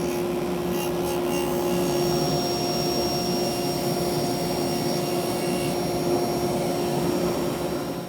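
Table saw running steady through a cove molding pass on a woodworking bench, a loud continuous whine with a steady hum, unbroken for the whole stretch with no voices.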